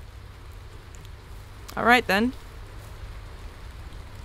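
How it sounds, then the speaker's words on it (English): Rain in the video game Wolf Simulator falls as a steady, faint hiss of noise throughout, with someone briefly speaking over it partway through. "Oh, hello, rain."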